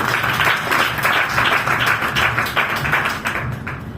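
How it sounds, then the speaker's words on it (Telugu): A congregation clapping together during a Sunday prayer service: steady, rhythmic claps in unison, loud and close, continuing throughout before easing slightly at the end. "మంచిగా చప్పట్లు పట్టాలి"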